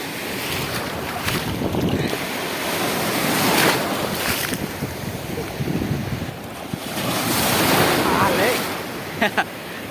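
Rough sea waves crash and wash over a small fishing boat out at sea, a loud continuous roar of surf and spray mixed with heavy wind buffeting, with a couple of sharp knocks near the end.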